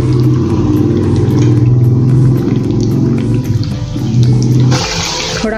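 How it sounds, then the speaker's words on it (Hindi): Gujiya stuffed with moong and chana dal frying in hot oil over a lowered gas flame: a steady, fairly loud bubbling sizzle runs throughout the clip, close and continuous, with no talk over it. "अभी गैस कम कर देंगे और अपनी गुजिया तलेंगे।"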